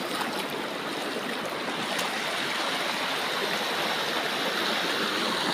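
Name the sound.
stream flowing in forest, San Mateo, Rizal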